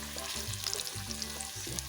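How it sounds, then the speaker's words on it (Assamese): Potato pieces fry in oil in a pan until lightly browned, giving a close, steady sizzle with a few soft stirring knocks and scrapes; no talking. "আলুখিনি মই অকণমান ৰঙচুৱা হোৱাকৈ ভাজি লৈছোঁ"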